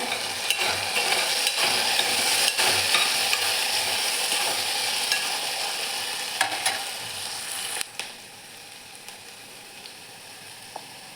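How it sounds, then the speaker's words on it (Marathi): Mustard seeds, cumin and green chillies fry in hot oil with a loud, steady sizzle and scattered crackles and pops, easing off a little toward the end. "आपलं तेल पण गरम झालं आहे मोहरी जिरे हिरवी मिरची हिरवी मिरची व्यवस्थित तळून घ्यायची"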